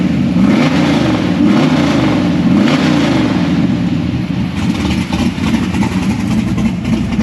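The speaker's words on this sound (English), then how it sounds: "I'm gonna hang out the door here and give it a quick rev." A built LS3 V8 in a Camaro revs up to about 4,000 RPM, a loud, rough, continuous engine roar that swells and settles back toward idle, heard up close.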